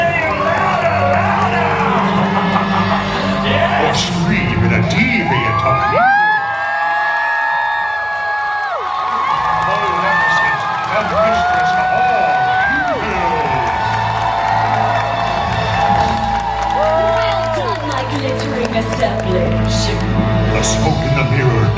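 Crowd at a live Disney Villains stage show cheering, whooping and applauding, loud and continuous, with an amplified performer's voice and music carried over the noise.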